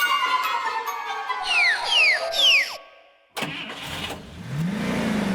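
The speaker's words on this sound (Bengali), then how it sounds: "চাড্ডা বাবু গাড়ি স্টার্ট করতে চলেছেন" A cartoon car engine cranks with three rising whines, falls briefly silent, then catches with a loud burst and settles into a steady running rumble.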